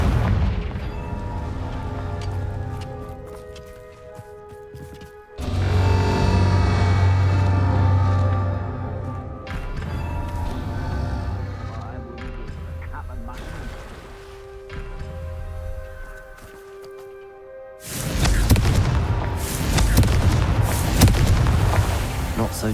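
Confringo explosion spell cast in the video game Hogwarts Legacy: loud booming blasts with a sharp onset, among layered game music and effects, the biggest burst arriving near the end.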